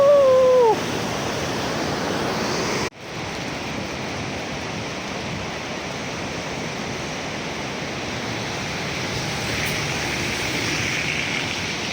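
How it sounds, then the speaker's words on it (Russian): Steady broadband rushing of a river near Machu Picchu village, a constant loud roar of water that fills the whole stretch, with a brief whistle-like tone at the start and a short dropout near three seconds. "Чудо-реку, которая, пожалуй, единственная нарушает безмолвие поселка Мачу-Пикчу"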